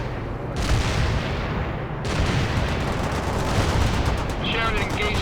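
Sustained battlefield din of gunfire and mortar blasts in the World in Conflict video game, a dense, loud continuous roar with a brief dip near two seconds and faint radio-style voice chatter beneath.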